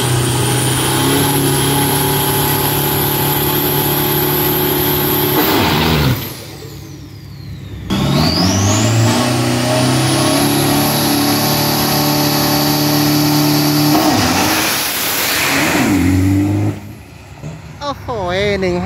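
Turbocharged drag racing car from a diesel garage, run on a 402 m strip at Bangkok Drag Avenue: loud, close engine roar with rising revs that cuts off twice and then builds again, under an excited commentator talking throughout.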